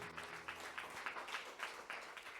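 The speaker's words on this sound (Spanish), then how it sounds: "Dele un fuerte aplauso a nuestro Dios" A church congregation claps for God during a Bible study service, a faint, rhythmic collective clapping in regular pulses, distant and low in level with a hum underneath.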